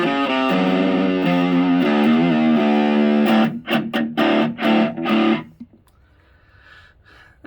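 Electric guitar through a Boss OD-2 Turbo Overdrive pedal, crunchy overdriven tone, plays sustained chords, then a run of choppy strummed stabs before fading into quiet hum.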